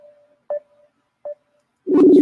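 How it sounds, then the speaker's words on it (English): A phone number being dialed: two short, clear touch-tone beeps spaced apart over a faint steady tone, followed by a louder burst of other sound. "Let me call Angelo"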